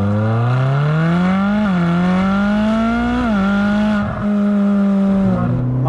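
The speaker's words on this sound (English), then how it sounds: "Speciale has a very different exhaust note compared to the standard" A Ferrari 458 Speciale drives by with its engine note held close and loud, a deep, throaty exhaust rising and dipping through gear changes.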